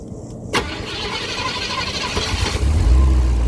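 An engine cranks briefly and then catches after work on its injectors, starting with a sharp burst and settling into a loud, rough idle that grows heavier toward the end.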